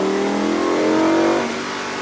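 A vehicle engine revs smoothly under light throttle while accelerating, with a clear rising tone that holds for a moment and then eases off, close and with no talking.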